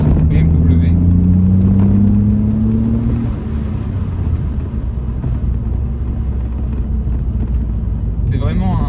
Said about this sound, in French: sans dénaturer évidemment le bruit mythique du 6 cylindres BMW